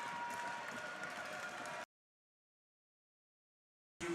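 Hockey crowd at a USHL game roaring and clapping after a fight, a dense, loud wash of cheering that cuts off abruptly, followed by silence.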